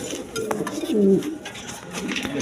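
Pigeons cooing in a small cage: close, low throaty coos rising and falling, with people's voices faintly in the background.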